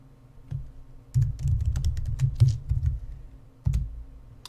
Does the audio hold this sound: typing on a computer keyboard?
yes